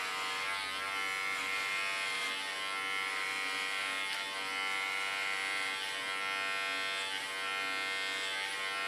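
An electric hair clipper buzzes steadily and close up while cutting short hair during a pixie cut, a constant bright motor whine with slight wavering in pitch as it moves through the hair, with no talking.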